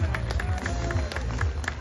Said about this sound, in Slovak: Dajte vám veľký aplauz za Petra Kegleviča.